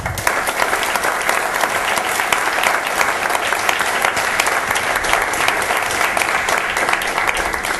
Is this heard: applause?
yes